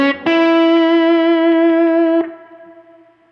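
A single sustained slide guitar octave note in open E tuning rings with a rich, bright tone and faint sliding wobble, fading out gently at the end.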